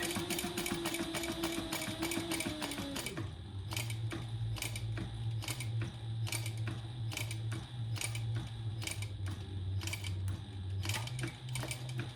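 A sewing machine stitches along the bottom edge of a crossbody bag, running steadily and close with a rapid ticking rhythm of the needle over a low motor hum, uninterrupted for the whole stretch.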